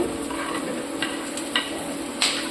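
Onions fry in oil in a pan with a steady soft sizzle, broken by a few quick stirring scrapes, and no talk.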